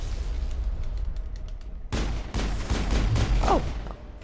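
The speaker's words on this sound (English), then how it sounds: "Explosions." Mass Effect combat scene: distant popping gunfire at first, then a sudden heavy burst of explosions and rapid shooting that keeps rumbling, dense and loud, with no voices.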